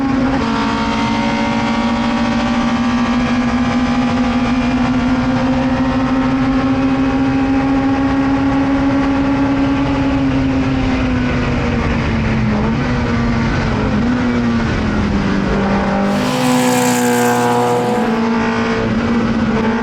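A race car at Algarve classic racing in Portugal accelerates hard out of the last corner, its loud engine droning steadily close up with a gear change and rising pitch near the end.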